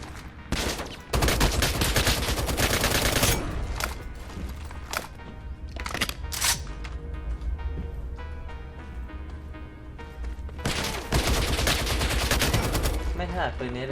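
Gunfire from the shooter game Lost Light: loud bursts of automatic fire and separate shots, with short pauses between volleys, heard close with a voice occasionally over it.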